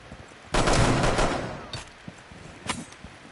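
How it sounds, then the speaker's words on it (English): A rapid burst of gunfire in a Western-themed cowboy video game, a loud volley of shots followed by a few sharper single cracks afterward. "Gunshots rang out."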